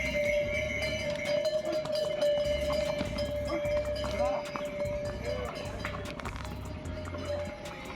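Horses carrying riders uphill on the Kedarnath pilgrimage trek, their hooves clip-clopping in a steady walking rhythm close by. A constant tone runs through it, and people talk nearby.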